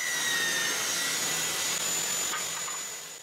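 A table saw fitted with a jig cuts through a wooden workpiece, a loud, steady high-pitched whine with a thin tonal ring, running continuously and tapering slightly at the end.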